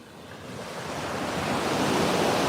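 Ocean waves roll onto the beach at Playa Conchal, a steady broadband wash of surf with some wind noise, building gradually louder over a couple of seconds with no voices.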